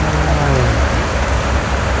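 Rain pours down at a house under construction, a loud, dense, unbroken hiss with low rumble throughout.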